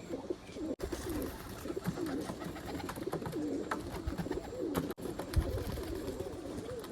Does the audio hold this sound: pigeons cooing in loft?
yes